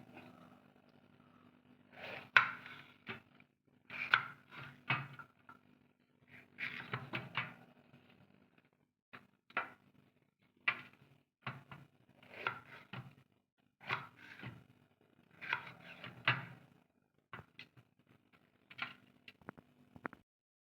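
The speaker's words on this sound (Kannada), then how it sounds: "ನಾನೀಗ ಕ್ಯಾಪ್ಸಿಕಮನ್ನು ಕಟ್ ಮಾಡ್ತಾ ಇದ್ದೀನಿ" A knife chopping capsicum on a cutting board in a home kitchen, crisp irregular taps in short bursts with pauses between, close and fairly quiet.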